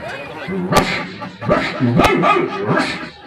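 A voice imitates dogs fighting, with loud close growls, snarling barks and yips in irregular bursts, sharp clicks punctuating the vocal scuffle.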